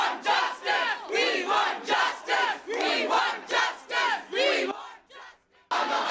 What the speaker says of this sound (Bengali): তাঁদের দেখে উই ওয়ান্ট জাস্টিস স্লোগান দিতে থাকেন পড়ুয়ারা